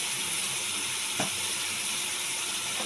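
Ground spices for paneer masala fry on full flame in a pan, giving a steady sizzling hiss with a single brief clack partway through and no talking.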